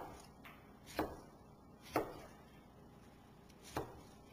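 A knife cuts into a lemon in a kitchen, making three distinct, evenly spaced chopping taps on a cutting board against a quiet background.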